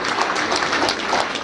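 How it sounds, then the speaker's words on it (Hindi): Audience applause at an award distribution ceremony for girls' encouragement prizes in Hanumangarh, heard as a steady, moderately loud wash of many hands clapping throughout, with no voices. "तालियां बजती रहनी चाहिए।"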